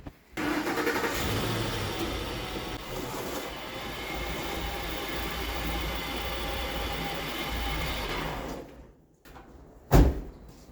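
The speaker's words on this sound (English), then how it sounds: "then you bring your vehicle in." A vehicle rolls onto a newly installed BendPak two-post car lift in a garage, with a steady loud engine and tire rumble for several seconds that fades out, followed by a brief sharp thud near the end.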